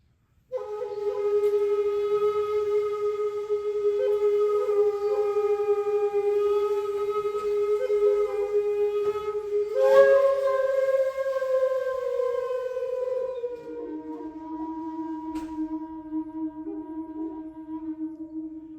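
A single breathy shakuhachi bamboo flute plays a long sustained phrase, holding notes that bend and drop near the end, alone and clear.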